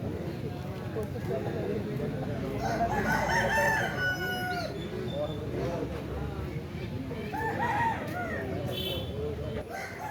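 Roosters crow repeatedly over a noisy crowd at a Saturday country-chicken market in Mamidada, voices chattering throughout while hens cluck and more crowing rises in the distance.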